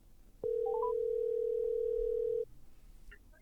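A phone call tone comes from a smartphone paired with a Rode Rodecaster Pro podcast mixer: a few quick rising beeps, then one steady tone held for about two seconds before it cuts off.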